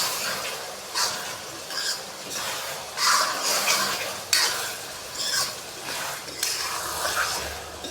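Daal mash frying in a pan with black pepper is stirred with a spoon, making repeated scraping strokes roughly every second over a soft sizzle, close and fairly loud.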